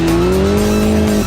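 A Mitsubishi Lancer Evolution braking hard on a racing school circuit at about 100 mph, its tires letting out a loud, close, continuous squeal over the engine for a little over a second.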